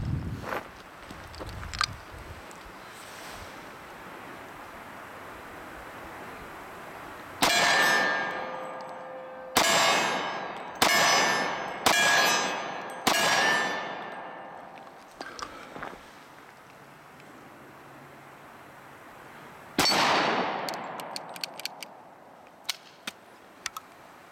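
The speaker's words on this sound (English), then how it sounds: "I'm gonna try shooting a little bit offhand, see if I can at least pull that off." Kahr Arms CM45 pistol fired offhand at steel targets: five sharp shots spaced about a second apart, each followed by a ringing clang off the steel, then one more shot and clang a few seconds later, outdoors with no talk.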